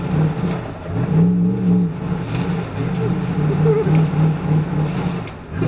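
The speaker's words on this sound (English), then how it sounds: "I'm gonna try to do a power slide." A car revs and slides through snow, its engine droning steadily and rising and falling up close, with a voice talking briefly inside the vehicle.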